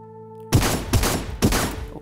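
Three sharp shotgun blasts in the VR ninja game Sairento VR, each a loud burst followed by a short decaying tail, spaced roughly half a second apart after a brief quiet hum.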